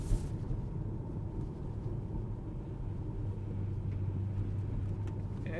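Steady tire and road roar inside a Tesla Model 3 Highland on softer tires while driving: a constant low rumble with a faint hiss, even throughout, with no voices.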